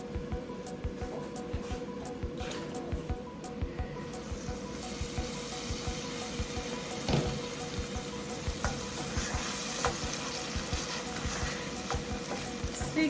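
Fish fillets sizzle steadily in a hot pan, a continuous crackling fry with small pops and occasional clinks of a utensil, fairly close and moderately quiet, with no talking.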